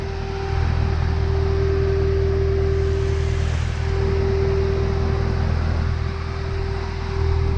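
A 2018 Chevrolet Camaro ZL1 1LE engine idles steadily and loudly, a constant low droning rumble with a persistent whine, unchanging for the whole stretch.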